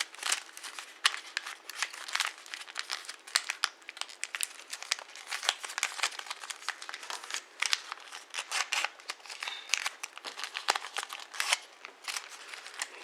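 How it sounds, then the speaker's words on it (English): Paper is folded by hand for an origami transformer, giving continuous close, crisp crinkling and creasing with sharp crackles scattered throughout. "you're going to turn around and fold these two parts to the middle."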